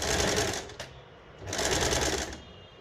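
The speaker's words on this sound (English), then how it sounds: "make a straight stitch, one on top of the other" A sewing machine runs a straight stitch on a child's casual shirt in two loud, close bursts of rapid mechanical whirring with a short pause between them.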